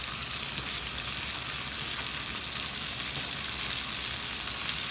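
Peppers and garlic sizzling in a hot pan, a dense, even crackling hiss that holds steady and loud throughout with no talking.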